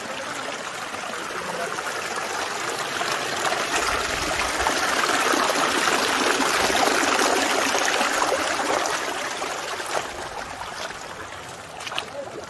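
Water in a rocky wadi stream at Wadi Lajab flows and trickles in a steady, close rushing wash, swelling slightly midway, with no clear talk.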